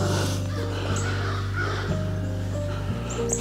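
A rooster crows repeatedly somewhere outdoors on a misty morning, with loud harsh calls close by and a steady low hum underneath.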